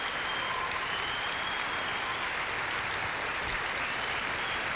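A telethon audience applauds in a continuous, even roar of many hands, full and sustained throughout with no voices over it.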